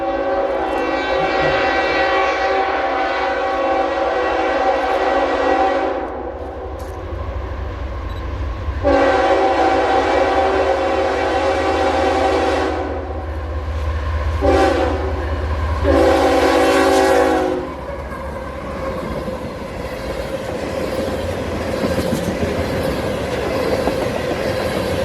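A freight unit train rounds a corner in north Georgia and passes close by, its loud horn blasting in several long chords over a steady heavy rumble and clatter of wagons on the rails.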